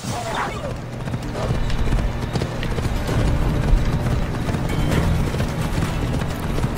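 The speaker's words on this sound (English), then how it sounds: "This way, horsey!" Horse hooves in a video game clip-clop steadily at moderate loudness under a constant bed of game noise, with a player talking over the sound.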